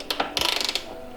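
A torque wrench ratchets rapidly on the passenger backrest bolts of a Royal Enfield Meteor 350 motorcycle, giving a close, crisp run of about a dozen quick clicks after a couple of separate ticks.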